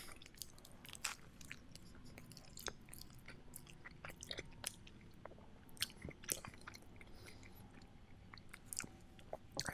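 Close, crisp chewing and biting of a spicy seasoned chicken sandwich on a potato bun, with repeated crunchy bites and wet mastication at an irregular pace and no talk.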